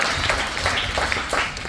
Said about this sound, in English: you can clap for her, go for it